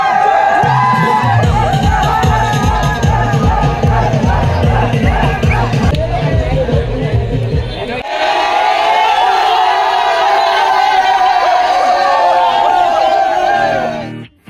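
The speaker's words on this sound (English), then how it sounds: "A big round of applause, guys," A crowd cheering and shouting at an under-17 football awards moment for Atlanta FC in the Mira Bhayandar Premier League, loud and continuous over pulsing music that drops out midway, then a sustained roar before a sudden cut.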